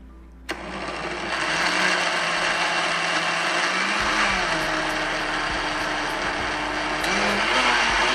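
A blender purées carrot soup, kicking on abruptly and then running steadily as a loud, continuous motor whir with a dense roar of churning liquid, its pitch wavering slightly as the contents swirl, with no talk over it.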